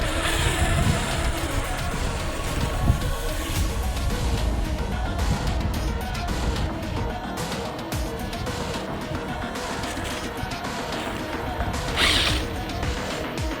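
An Arrma Limitless RC car runs over snow with a steady, close whirring motor and churning crunch that hold at the same level throughout, with brief scraping bursts along the way.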